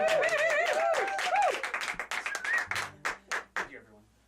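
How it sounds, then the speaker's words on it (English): Live audience applause breaks out, dense clapping that thins into a few scattered claps near the end, with a host's voice and laughter mixed over it. "round of applause if you would."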